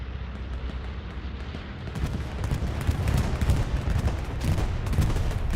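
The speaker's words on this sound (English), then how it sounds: "here comes a retaliation bombing run" Bombing-run explosions in the WWII shooter Hell Let Loose on the Mortain map: dense, continuous rumbling blasts and crackling gunfire that swell louder midway through and stay heavy to the end, with no talk.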